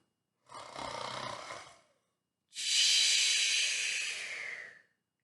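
A voice imitating snoring: two long, breathy snores, a rough inhale then a louder, hissing exhale, alone with a brief pause between.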